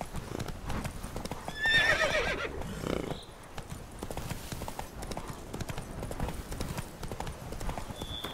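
A horse in The Witcher 3 video game clip-clops along at a steady pace and whinnies once, with in-game music and ambience underneath.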